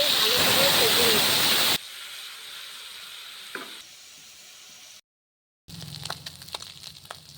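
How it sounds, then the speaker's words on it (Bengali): Small fish dropped into hot mustard oil sizzle loudly in a pan, a dense bright hiss that cuts off abruptly after a couple of seconds, followed by quieter kitchen noises and a short silence. "তেল গরম হয়ে গেছে, এখন আমি দিয়ে দিব ছোট মাছ। দিয়ে ভালো করে ভেজে নিব।"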